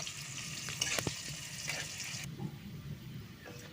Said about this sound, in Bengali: পেঁয়াজ কুচিটা আমি বাদামি কালার করে ভেজে নেব।